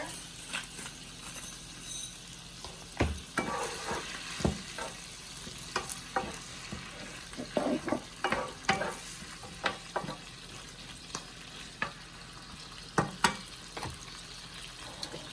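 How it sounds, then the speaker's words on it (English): Salmon seasoned with salt and pepper sautés in a covered pan, a low steady sizzle broken by scattered sharp clicks and clatters of utensils, fairly quiet with no voice. "throw the lid on top and let that saute for a good 10 minutes"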